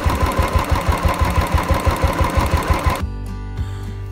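A Royal Enfield motorcycle idles after its carburetor has been tuned. It gives a steady, close, rhythmic thump that falls quiet after about three seconds, leaving faint clicks and low residual noise.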